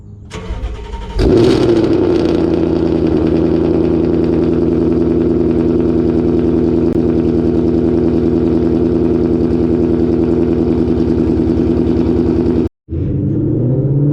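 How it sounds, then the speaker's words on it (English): A 700HP Ford Mustang engine cold starts with a short crank and catches into a loud, steady, deep idle that drones on evenly, briefly cutting out near the end, with no talk. "so let's get a cold start"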